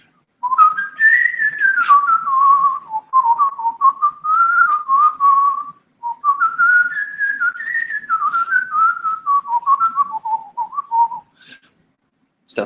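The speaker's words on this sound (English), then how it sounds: "I whistle like smooth jazz solos when I'm in the shower." A person whistles a smooth jazz solo alone, one long, loud, wavering melodic line with sliding notes, briefly pausing midway before carrying on for several more phrases.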